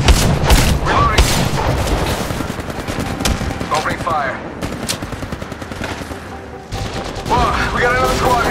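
Rapid automatic gunfire from Apex Legends Mobile, dense bursts of loud close shots rattling almost continuously, with brief pauses and faint game voices.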